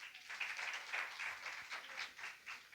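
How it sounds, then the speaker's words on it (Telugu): A church congregation claps together at a New Year 2026 celebration, a steady mid-level patter of many hands sustained throughout with no talk over it. "క్లాప్ కొట్టండి"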